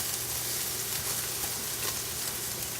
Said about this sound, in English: Popping bacon, delicious sounds.